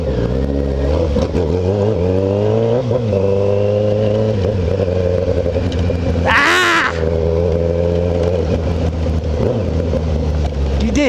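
Kawasaki ZX10R sport motorcycle with a straight-through exhaust accelerating hard through the gears on a city street, a loud, continuous close engine roar with rising and falling revs and a sharp burst of high-pitched exhaust noise midway.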